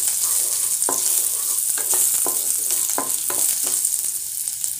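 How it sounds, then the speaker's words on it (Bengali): Thin-sliced ginger pieces fry in a pan for chicken ginger, giving a bright continuous sizzle broken by a quick run of scraping stirs, near and fairly loud. "এখন ভালো করে নাড়ব।"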